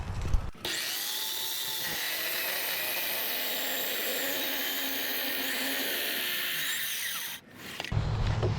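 A saw cutting through a giant timber for a timber frame house collar tie, a loud continuous grinding roar that starts abruptly and runs steadily for several seconds before cutting off.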